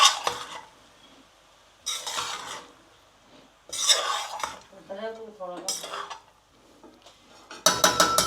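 Sago khichdi is stirred in a pot in bursts of close metallic scraping and clinking of a spoon against the pot, separated by quiet pauses, with a brief spoken phrase in the middle.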